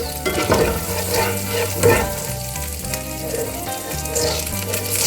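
Mushrooms hit hot butter in a pan, giving a steady, close sizzle and frying crackle with a few stirring scrapes throughout.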